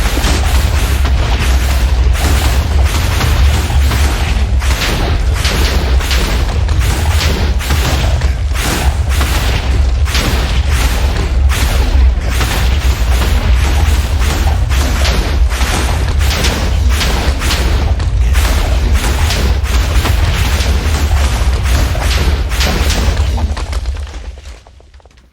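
A long run of loud, dense booms and crackling blasts fills a Minecraft fight with the wither, pounding in rapid succession with heavy low rumble before cutting off at the end.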